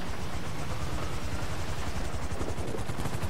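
Four-propeller Titan cargo plane in GTA V, a steady loud drone with rapid rhythmic propeller pulsing throughout, no speech.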